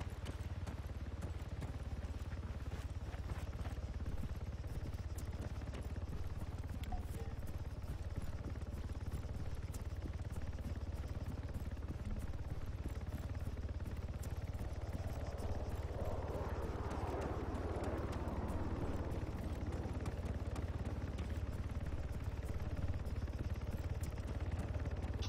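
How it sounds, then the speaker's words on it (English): Helicopter approaching in the video game Arma 3, a steady, loud rotor thump and engine drone that runs throughout, with a broader rush of noise swelling in the middle section and no talking. "The helicopter is coming from the northwest."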